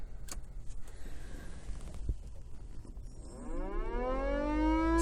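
A car siren winds up after a few clicks and clunks, its rising wail swelling louder and closer through the final seconds alone.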